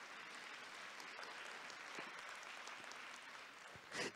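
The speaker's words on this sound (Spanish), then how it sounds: "Dale palmas a Cristo." An audience at a church intercession summit claps steadily, a soft, even patter of many hands continuing throughout with a slightly louder burst at the very end.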